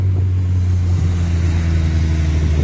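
A Corsa Turbo car's engine runs loud and close at night, a steady deep droning rumble that holds even throughout with no talking over it.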